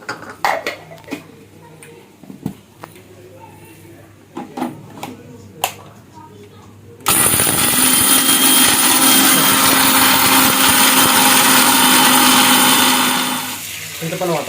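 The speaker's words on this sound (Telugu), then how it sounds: "ఇవన్నీ మిక్సీకి అయితే పడుతున్నాం." An electric mixer grinder (mixie) in a home kitchen grinds turmeric, peanuts and garam masala: after clinks of a lid and jar, a loud steady whirring roar starts and runs for several seconds before winding down.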